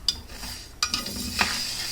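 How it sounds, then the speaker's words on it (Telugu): Green moong dal is dry-fried in a pan, giving a gentle rustling sizzle with a few sharp scraping stirs of a spoon against the pan, close and steady and with no talking. "గ్రీన్ మూంగ్ దాల్ లేదా పచ్చి పెసరలను మనం ఓ 2-3 నిమిషాల పాటు ఫ్రై చేసుకోవాలి"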